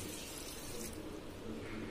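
Water is poured steadily into a pressure cooker holding ker sangri for a Rajasthani curry, making a continuous close-up splashing rush that carries on unbroken with no talk over it.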